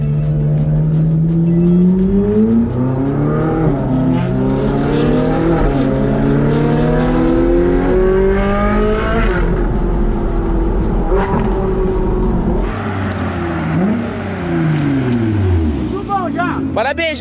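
Ferrari 458 and Nissan GT-R drag racing, loud engines revving hard and accelerating with rising and falling gear pitches throughout, plus a brief tire squeal, while people talk over the roar.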